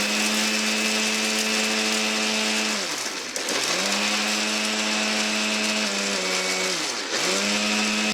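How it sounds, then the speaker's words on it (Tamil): A mixer grinder whirs through roasted lentils and Guntur chillies with a loud, steady motor whine, briefly dropping in pitch and pausing twice before spinning back up. "இப்போ ஒன்றா கிரைண்ட் பண்ண போகிறேன் பாருங்கள்"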